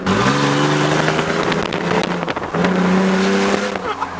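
A straight-piped Toyota Tacoma pickup's engine roars as it accelerates hard at full throttle, loud and raspy, close by and continuous with no break.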